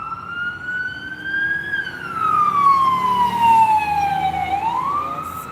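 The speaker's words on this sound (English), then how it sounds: "That's the sound of the sirens passing through here." An emergency siren wails past in Miami, rising and falling in pitch as the vehicle moves by, loud against steady traffic rumble.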